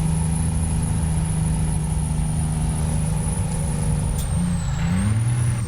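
An AI truck in American Truck Simulator, a steady loud diesel drone with a high air-brake hiss and a shifting engine pitch toward the end, no voices present.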